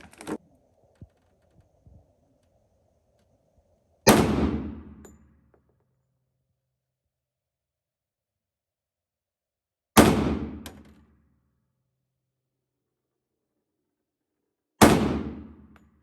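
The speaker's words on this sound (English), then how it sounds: "The last gun we're going to shoot today is a SIG GSR." A SIG GSR 1911 pistol is loaded with a few small metallic clicks, then fires three loud, sharp shots spaced several seconds apart, each leaving a ringing decay outdoors at a shooting range.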